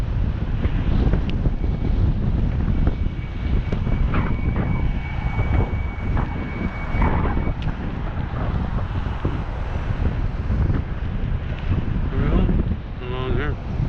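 Steady wind buffeting the microphone during an outdoor bike ride, a constant loud roar with no let-up, while a person speaks faintly underneath.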